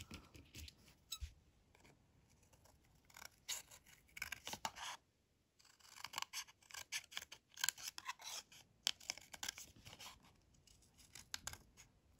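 Scissors snip through a strip of craft material in a series of close, crisp cuts with rasping, scraping strokes, pausing briefly midway, with no talking.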